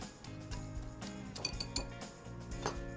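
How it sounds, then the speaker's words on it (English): A whisk clinks and rattles against a bowl while mixing brown sugar and cinnamon, a quick irregular series of light metallic taps over faint background tones. "what will make my life a lot easier is if I whisk them together to get rid of any lumps"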